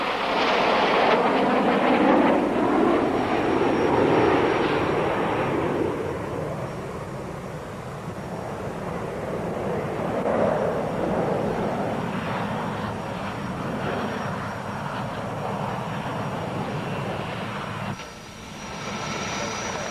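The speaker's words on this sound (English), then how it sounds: "This is the 1993 Red Arrows." Red Arrows jet aircraft performing a display at the 1993 Biggin Hill air show, a loud sustained engine roar that swells and fades as the jets pass, steady throughout with no talk.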